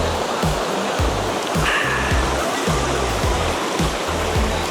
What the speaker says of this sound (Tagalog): Sound of nature. Ilog, lalaslas ng tubig.